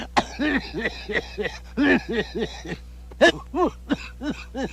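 A man coughing repeatedly in short, harsh bursts from cigarette smoke, a rapid series of hacking coughs with brief gaps, close and fairly loud.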